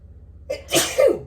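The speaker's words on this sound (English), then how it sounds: "I'm going to sneeze." A single sharp sneeze, with a short breathy intake just before it, close and fairly loud against quiet background hum.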